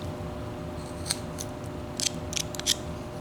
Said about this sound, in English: we want to cut that down just a little bit and cut it down a little bit like this